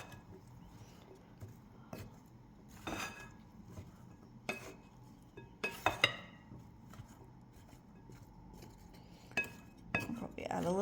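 A spoon clinks and scrapes against a dish while mixing maple-glazed cumin carrots, with sharp intermittent taps and soft rubbing between them in a quiet kitchen.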